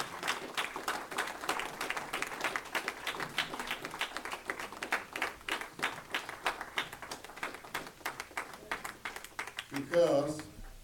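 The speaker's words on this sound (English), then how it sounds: "Give him a strong round of applause." An audience at a church gathering applauds with rhythmic clapping under ongoing speech, the clapping moderately loud and sustained, with a brief burst of voice near the end.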